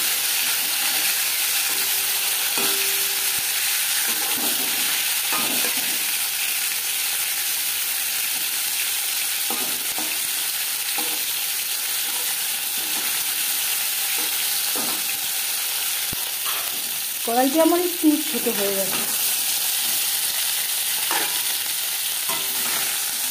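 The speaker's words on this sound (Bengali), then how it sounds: "মাছ ভাজা হয়ে গেছে" Lata fish frying in a small wok, a steady close sizzle and hiss of hot oil running throughout, with occasional stirring clinks and a brief spoken remark partway through.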